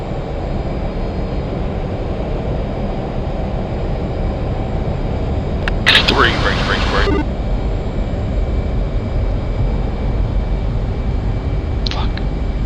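Military aircraft taxiing toward runway 03 in a flight simulator, a steady low engine rumble running throughout with a brief burst of brighter noise midway and radio-style voices talking over it.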